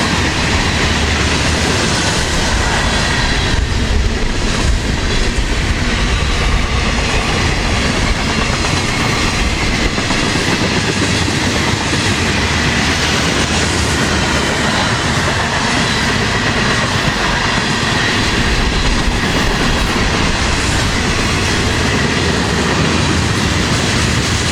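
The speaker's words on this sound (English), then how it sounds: "This train running in its usual 1x1 setup with a GEVO up front" A long freight train led by a GEVO locomotive rumbles steadily past close by, wheels clattering over rail joints with a continuous loud roar and occasional faint squeal.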